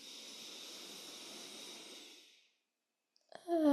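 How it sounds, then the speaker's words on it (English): A long, deep exhale through an open mouth during a yoga session, a breathy rushing hiss that lasts about two seconds and fades into silence, close and alone, followed by a faint start of something at the end. "And open the mouth, exhale, release."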